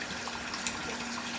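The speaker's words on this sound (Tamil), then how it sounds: "ஃபுல்லாகவே இப்போ நம்மளுக்கு தண்ணி வர ஆரம்பிச்சிச்சு" Water gushes hard from the output pipe of a jet motor pump, a dense, steady, hissing rush heard close and alone.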